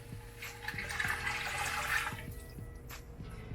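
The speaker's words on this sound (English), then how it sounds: "Now I'm going to add the 4 cups of water." Water from a tap or jug runs steadily into a pot of beet and rosemary soup for a few seconds, a close splashing pour that tapers off with faint clatter underneath.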